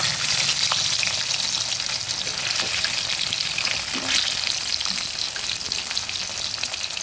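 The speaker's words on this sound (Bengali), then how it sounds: "দুটো দুটো করে ভেজে নেবো মাছগুলো" Pieces of katla fish fry in hot oil, a dense, steady sizzle that stays close and loud throughout, with no voices.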